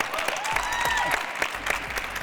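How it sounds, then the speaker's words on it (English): An audience at a youth expo panel on the changing world of work claps enthusiastically, a busy, sustained round of applause mixed with crowd murmur and a few louder individual claps. "But they did also clap very enthusiastically"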